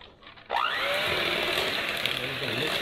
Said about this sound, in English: Then I'm going to take my handy dandy mixer.